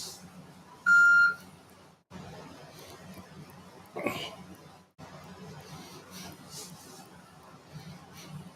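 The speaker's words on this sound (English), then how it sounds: "Leave a message at the beep." A single answering machine beep sounds as one steady, clear electronic tone lasting about half a second, standing out against a faint background hiss before a quiet stretch.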